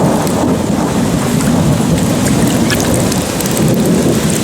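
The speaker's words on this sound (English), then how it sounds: "So we'll continue this when the rain goes away." Heavy rain pours during a thunderstorm, a loud, dense, constant roar of drops hitting surfaces with low rumbling thunder beneath, steady throughout with no voices.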